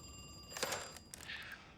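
A telephone bell rings in a scene from the TV drama Fallout, a short burst of bright, trilling rings over quiet background.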